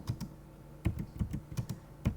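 Keys on a computer keyboard clatter in an irregular burst of close, crisp taps with short pauses between clusters, no voices over them.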